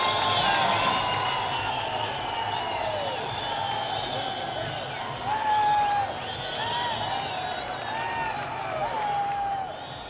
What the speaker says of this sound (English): much to the cheer of the crowd